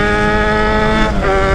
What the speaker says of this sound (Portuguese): Esse ronco não tem igual.